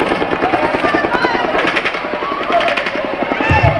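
Full-auto gunfire from the Las Vegas Mandalay Bay mass shooting, a rapid steady stream of shots echoing from a distance through a recording, with a faint crowd and voices underneath.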